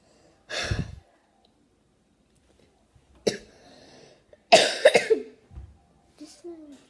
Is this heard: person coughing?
yes